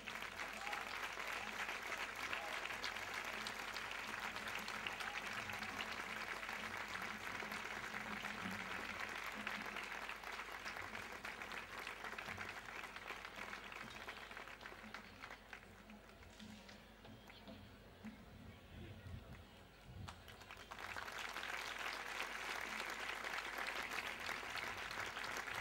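Sustained applause from an audience at a civic honours and distinctions ceremony in Valdepeñas, Spain, a dense steady wash of clapping that dips briefly in the middle and then swells back, with no voices over it.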